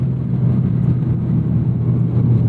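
A Toyota GR Corolla driven hard gives a steady, loud engine rumble that holds unbroken from start to finish.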